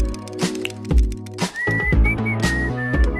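A person whistles in a hospital, a thin high tune that rises and holds over a busy background of other tonal sounds and thumps.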